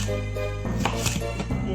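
Green tomatoes being cut and chopped with a knife, a few close, soft taps and slices on a board at an uneven pace, set against a steady low kitchen hum.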